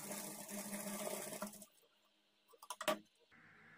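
A sewing machine stitching blouse fabric: a faint whirring run that stops, then after a pause a short burst of quick mechanical ticks and clacks, quiet and close.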